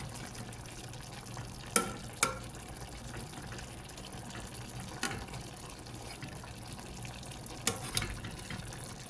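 Paksiw na isda, fish simmering in a vinegar sauce in a pot, boiling with a low, steady bubbling and occasional sharper clinks and splashes, close and fairly quiet.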